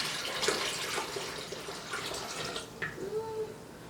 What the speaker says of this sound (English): And then you're going to pour in the rest of your water.